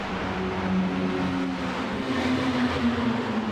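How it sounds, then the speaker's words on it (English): Mini stock race car engines in the iRacing video game drone steadily at a distance, a continuous high whine with slight pitch shifts as the cars circle a superspeedway. "The screaming sound of mini stocks."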